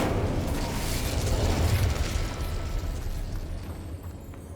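A fire spell cast in Hogwarts Legacy, a loud, sustained roaring whoosh with a rumbling low end that swells near the two-second mark, then slowly fades without dying out.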